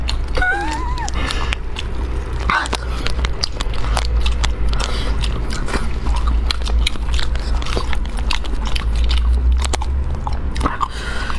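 Close, loud biting and chewing of spicy stir-fried food, with wet crunchy bites and repeated mastication running steadily throughout, plus scattered crackles and no talking.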